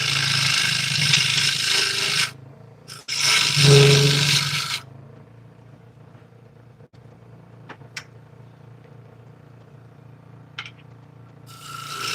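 A walnut and butternut bowl spins on a lathe as a gouge scrapes it, giving a few seconds of loud rasping cuts, then a quiet stretch with faint taps and ticks and a short return of cutting at the end.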